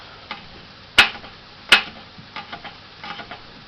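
A knife chopping garlic on a cutting board: two sharp, loud knocks about a second apart, then several lighter, quicker taps, close and with no speech.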